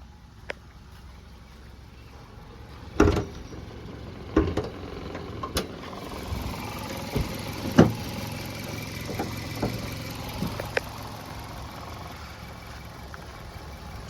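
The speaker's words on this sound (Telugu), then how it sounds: "మీరు ఇంజన్ అయితే చూడొచ్చు, ఇంజన్ సౌండ్ అయితే వినొచ్చు అండి" Under an open bonnet, the petrol engine of a 2014 Maruti Suzuki Swift VXI idles with a steady low hum, punctuated by a few sharp clicks and knocks over about fourteen seconds.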